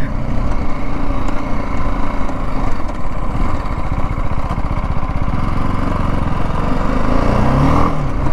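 A BMW G310 GS single-cylinder motorcycle engine runs loud and close while riding, a steady throbbing drone that shifts pitch slightly as the throttle changes.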